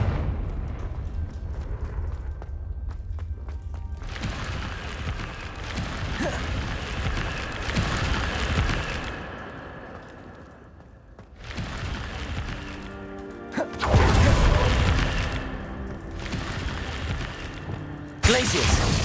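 Confringo fire spell in Hogwarts Legacy bursting in repeated loud booming blasts with rumbling tails, mixed with ongoing game action and occasional voices.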